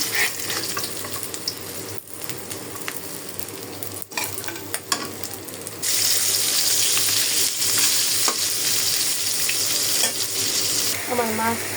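Pieces of rohu fish fry in oil in a pan, producing a steady close sizzle with scattered spatter pops and clinks, growing louder partway through, with a faint tonal sound near the end.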